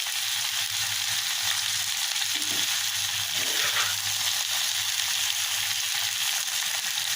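Pointed gourd frying with turmeric, salt and chilli powder, a steady broadband sizzle with a low hum beneath and faint stirring scrapes, continuous and close without speech.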